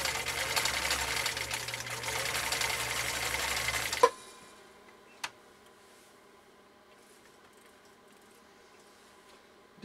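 A sewing machine lock-stitches full grain leather, running with a loud, steady whir for about four seconds and then stopping abruptly, followed by near silence and one faint click.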